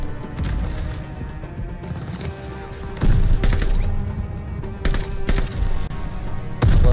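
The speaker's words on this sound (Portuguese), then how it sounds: "Agora tem um cara ali atirando." Gunfire in Call of Duty Vanguard from an enemy shooter, sharp repeated shots and bursts cracking at irregular intervals over a rumbling battle backdrop, fairly loud and close.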